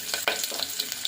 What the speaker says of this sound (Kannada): ಈರುಳ್ಳಿ ಹಾಕ್ತಾಯಿದ್ದೀನಿ.